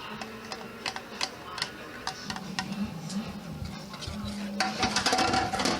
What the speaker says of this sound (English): I'm just going to stir it until the cheese melts